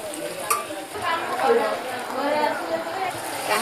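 Tadka tempering in a hot pan sizzles and fries as it is stirred, with scraping stirs and soft crackle heard close under continuous talking.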